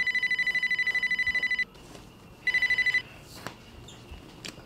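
A telephone rings with a bright, steady electronic warble in two bursts, the second one shorter, close and fairly loud, followed by faint background rustles.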